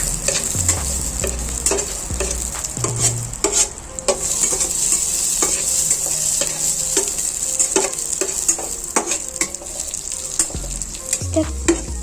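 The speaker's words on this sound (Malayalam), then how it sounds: "ഇതിലേക്ക് നമുക്ക് അണ്ടിപ്പരിപ്പ്, മുന്തിരി കൂടിയിട്ട് ഒന്ന് വറുത്തെടുക്കും." Cashews and raisins fry in unsalted butter in a pan for payasam, a steady close sizzle broken by frequent irregular spatula clicks and scrapes, with a faint low rumble underneath.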